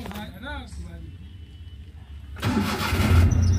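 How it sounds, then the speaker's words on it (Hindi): A car engine cranks and catches partway through, settling into a loud, close idle after a quieter stretch with a brief whining sound before it. "गाड़ी को स्टार्ट करते हैं।"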